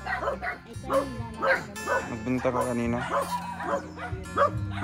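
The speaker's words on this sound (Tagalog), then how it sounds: "Dami mo mga aso." Several dogs at a rural seaside home bark in repeated yips and woofs close by, overlapping with people talking in Tagalog.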